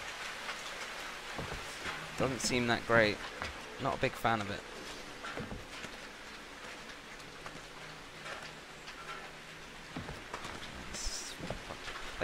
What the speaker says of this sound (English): What's with the raining blood